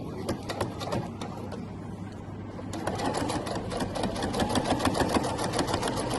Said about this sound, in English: Just going to sew all the way down.